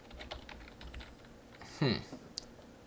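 Soft keystrokes tap lightly on a computer keyboard, with a brief louder clatter near the end and one sharp final key press, all fairly quiet and with no one speaking.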